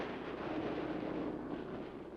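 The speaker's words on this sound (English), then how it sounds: "here is evidence of their great skill in anti-aircraft fire" Soviet anti-aircraft guns firing, a dense, continuous rumbling barrage of overlapping blasts that sounds distant and washed out, with no voices.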